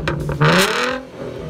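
A Ford Mustang six-cylinder engine fitted with two cardboard exhaust pipes revs up in a short, muffled burst, rising and then falling back to a steady whir.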